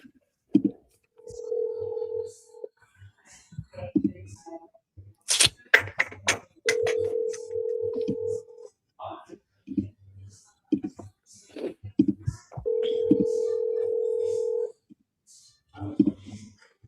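Outgoing telephone call with repeated steady ringback tones, three long buzzing rings spaced apart, interleaved with clicks and muttered talk between them.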